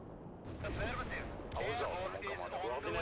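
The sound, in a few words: artillery and gunfire shooting at tanks in video game World in Conflict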